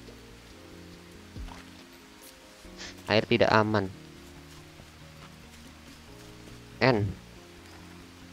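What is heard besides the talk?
sudden rain in Green Hell video game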